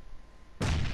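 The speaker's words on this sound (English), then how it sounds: "You threw a grenade at me." A grenade goes off in PUBG, arriving after a quiet stretch as one sudden loud blast whose roar holds steady through the rest of the moment.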